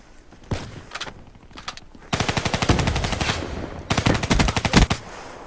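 Gunfire in Call of Duty Black Ops III on PS3: short separate shots at first, then loud rapid automatic bursts that stop briefly and then resume, with sharp rhythmic reports.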